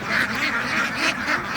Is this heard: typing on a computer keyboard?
no